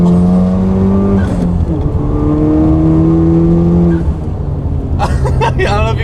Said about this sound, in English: Rolling anti-lag at third gear